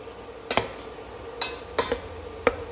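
Tomatoes simmering in a pot give a soft, steady low bubbling, broken by a few faint ticks and light clinks of a spoon or utensil against the pot.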